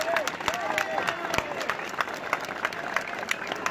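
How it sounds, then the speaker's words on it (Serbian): A crowd at a protest outside the judicial council building breaks into sustained applause, dense clapping from many hands continuing throughout, with scattered voices mixed in. "Molio bih vas da jednim velikim aplauzom pozdravimo Davora Dragičevića koji je ovdje."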